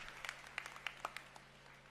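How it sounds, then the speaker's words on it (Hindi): Sparse, scattered hand claps come from an audience welcoming a doctor onto the stage at an Aam Aadmi Party gathering in Haryana. The clapping is faint and distant, with a few louder claps standing out from a thin patter. "डॉक्टर साहब तालियां बजा करके डॉक्टर साहब का सम्मान करें"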